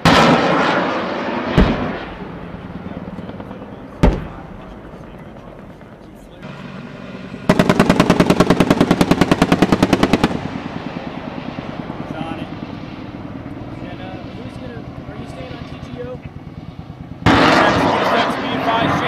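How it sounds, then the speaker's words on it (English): A DShK heavy machine gun and artillery fire in combat: sharp, isolated booming blasts, then a long rapid burst of automatic fire, with distant rumbling between, and voices talking at times. "we still got that Dishka over there firing at us"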